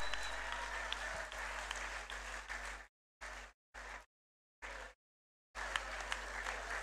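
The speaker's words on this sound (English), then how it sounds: "a better round of applause" A round of applause for a guest professor after an inaugural lecture at a university ceremony, with broad steady clapping from a seated audience, broken by several abrupt silent gaps before resuming.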